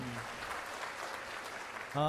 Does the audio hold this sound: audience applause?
yes